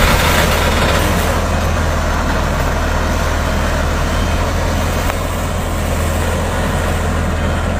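A heavy Siba Surya cargo truck on a Banten to Medan run rumbles steadily up close as it maneuvers into a parking spot, its deep engine idling and droning without a break, with a faint air-brake hiss in the background.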